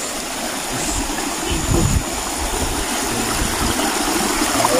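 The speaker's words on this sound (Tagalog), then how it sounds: "yung lakas ng daloy ng tubig" A stream swollen by heavy rain flows nearby, strong and steady, a constant broadband roar with a slight swell in the middle.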